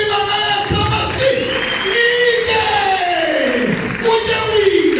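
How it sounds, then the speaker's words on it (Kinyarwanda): Applause and cheering voices swell from the audience at a church concert, a dense, steady wash of clapping that runs throughout with shouted calls rising above it. "dukomere Imana yacu amashyi"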